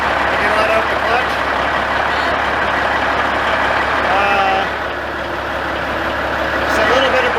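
Steady idle rumble of a manual-transmission truck as the driver shifts into neutral, a constant low engine drone under nearby talking, with a brief dip in level midway.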